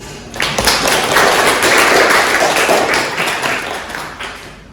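Applause at a university teaching session, a short burst of clapping from a small group that swells and then fades over a few seconds, fairly close and unaccompanied.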